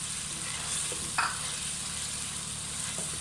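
Curd sizzling and frying in a pan while cooking baingan bharta, a steady soft hiss with a brief stir or clatter near the middle, close and fairly quiet with no talking.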